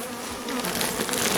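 Honeybee colony lodged inside a plasterboard wall, a dense continuous buzzing swarm that grows louder and busier, close and without talk.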